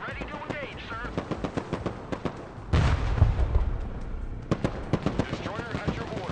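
Mortar fire in the war video game Broken Arrow, set among rapid, dense gunfire cracks and a heavy blast-like surge midway, with voices murmuring underneath.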